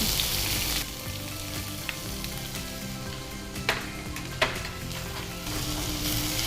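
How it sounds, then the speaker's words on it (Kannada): Finely chopped onions hitting hot oil with spluttering cumin seeds, a steady loud sizzle with a few sharp pops and stirring scrapes in the pan, close up with no talking. "ಜೀರಿಗೆ ಚಾಟಪಡ ಅಂತ ಹೇಳುವಾಗ ಈರುಳ್ಳಿ ಹಾಕಬೇಕು."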